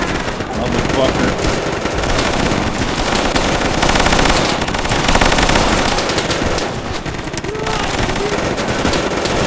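Heavy machine gun fire in a World War II video game river-crossing battle, a loud, dense, continuous rattle of automatic fire mixed with distant explosions, steady throughout with voices talking underneath.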